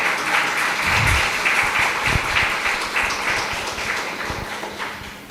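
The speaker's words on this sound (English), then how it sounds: "Another round of applause for someone as young as her." An audience at an evening lecture on Indian gems and jewellery gives a sustained round of applause, many hands clapping together, loud and continuous before slowly easing off.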